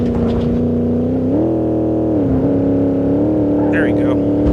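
An Oldsmobile Regency 4x4 engine in BeamNG.drive holds a steady drone and rises in pitch as it accelerates, loud and close, while someone speaks briefly over it.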